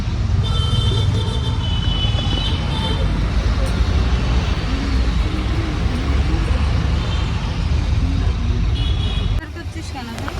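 An auto rickshaw rides through morning road traffic toward Barrackpore, with a constant loud engine rumble and road roar, horns beeping intermittently, and passengers talking over the noise.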